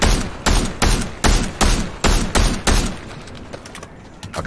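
Rapid bursts of video game gunfire, about eight loud, evenly spaced shots cracking one after another, then fading into a lower rumble with no talk over them.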